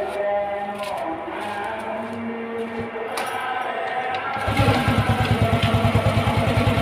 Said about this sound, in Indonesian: dihidupkan sepeda motor karena ini masih bisa hidup tadi